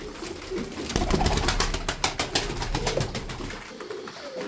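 Several tumbler pigeons cooing and fluttering nearby, soft repeated throaty calls mixed with rustling and wing flaps throughout.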